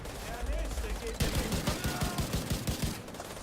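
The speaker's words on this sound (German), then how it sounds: "Hey, wer schießt denn hier?" A rapid burst of automatic gunfire in the video game The Division 2, a tight string of sharp shots firing in quick rhythm after a short lull, with voices chatting around it.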